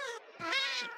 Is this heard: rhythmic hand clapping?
no